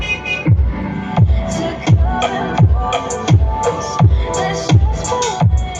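Deep bass notes thump through a Technomaster loudspeaker in a steady repeating pulse, each hit booming and decaying, with music layered above, loud and close.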